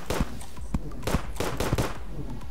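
Skeletron firing again and again in the game Terraria, a dense stream of punchy, closely spaced shots and impacts repeating with little pause.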